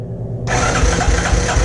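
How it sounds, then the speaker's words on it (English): A Honda TRX 200sx ATV engine, choked and electric-started, catches after a brief silent moment and settles into a loud, close, steady idle. "choke that and give it the electric start"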